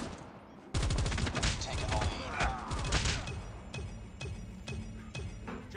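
Dense, rapid automatic gunfire from Call of Duty Mobile bursts in loudly after a short quiet start, then thins into spaced, sharp single shots and short volleys.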